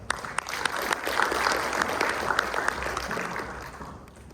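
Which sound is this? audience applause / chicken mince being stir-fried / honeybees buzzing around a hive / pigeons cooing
audience applause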